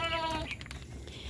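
A goat gives a short, wavering bleat close by, heard alone against a faint noisy background.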